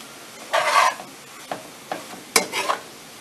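Soy meat for tacos cooking down in a hot frying pan, with brief scraping stirs and soft sizzles coming in short separate bursts over a quiet background.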